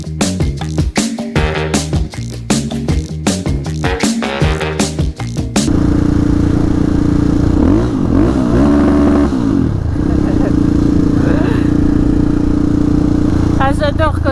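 Motorcycle riding along a muddy country road, first a few seconds of sharp rhythmic clattering, then a loud, close, sustained engine drone rising and falling as the throttle is worked, with a voice talking over it.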